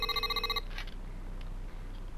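A cell phone rings with a bright electronic tone, repeating quickly for about half a second and then cutting off, leaving a quiet room hum.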